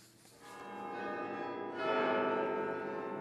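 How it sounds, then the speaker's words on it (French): Carillon bells of the Mons belfry in Belgium ring out with sustained, overlapping metallic tones that swell louder partway through, heard outdoors with no talking. "Chaque quart d'heure, le son des 49 cloches du beffroi rythme la vie des Montois."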